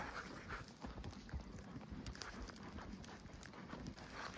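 Faint hooves of a single horse clip-clop in an uneven, continuous rhythm during an evening ride in eastern Colorado, with no talking over them.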